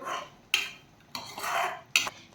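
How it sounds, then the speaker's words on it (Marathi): Sugar being stirred into corn shira in a pan: three distinct scraping strokes of a spoon against the metal pan, each starting with a sharp clink, close and clear with no talk. "आता आपण यामध्ये घालूयात साखर आणि छान मिक्स करून घेऊयात"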